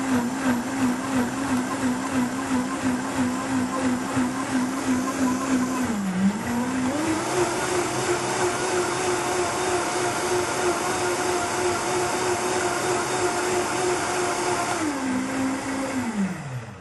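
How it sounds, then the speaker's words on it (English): Vitamix blender processing fresh orange juice for an apple pie recipe, a loud, close, continuous motor whine that shifts pitch downward briefly, then climbs and holds steady before winding down at the end. "Just love the Vitamix."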